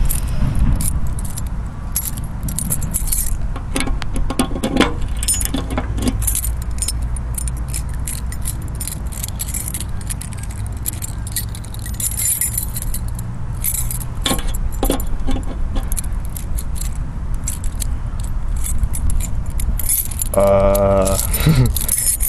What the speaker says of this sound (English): Far too many keys.